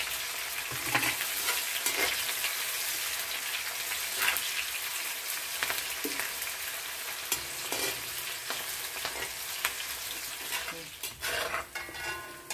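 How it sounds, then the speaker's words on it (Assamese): Onions fry in mustard oil in a clay kadai for a home-style local chicken curry: a continuous close sizzle broken by repeated scraping and clacking stirs, with the bubbling loosening toward the end, and no talk. "পিঁয়াজখিনি অকণ টাইম ভাজি ল'ম।"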